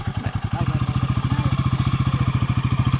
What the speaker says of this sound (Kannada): ಹೊರಟರು ಬೈಕಲ್ಲಿ ಹೊರಟರು